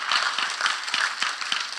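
A church congregation claps for the Lord during a Spanish-language sermon on the Holy Spirit, giving steady, dense applause that carries through the whole stretch at moderate loudness, with no talking over it.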